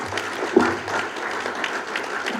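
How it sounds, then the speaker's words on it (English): An audience at a PTA-sponsored school board candidates forum applauds the candidates, a moderately loud round of many hands clapping evenly throughout, with one sharper clap near the start. "Let's give them all a round of applause"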